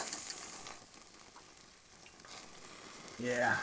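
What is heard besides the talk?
steak searing on braai over hot coals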